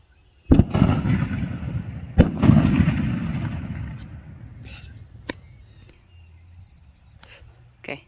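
A firework shell launched by an Ignite firing system thumps off with a sharp crack and a long rushing roar, then a second loud burst, trailing into a fading hiss and scattered crackles.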